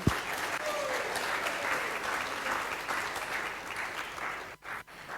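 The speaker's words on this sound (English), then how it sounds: "a very big round of applause to His Grace Ramvijay Prabhu" Steady, broad applause from a congregation at a Sunday love feast honoring His Grace Ramvijay Prabhu, a continuous moderate-level clapping that tapers and briefly drops out near the end.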